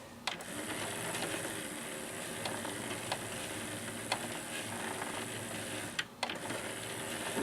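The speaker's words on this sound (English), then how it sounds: "I'm going to let it rediscover what discs are inserted." A Sony CDP-C305 CD changer scans its loaded discs with a continuous mechanical whir and hum, broken by faint ticks and clicks and a sharper clunk near the end.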